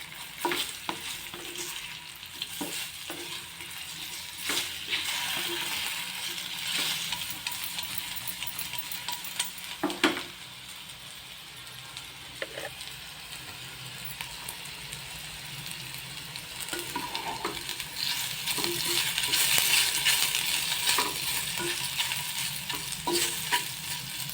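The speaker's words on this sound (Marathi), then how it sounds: "गॅसची फ्लेम मी मीडियम ठेवते आणि आता हे परतून घेते" Sorghum flour mixture sizzles in a pan over a medium gas flame while a utensil stirs and scrapes it. Soft clinks and scrapes recur throughout, steady and close, with no talking.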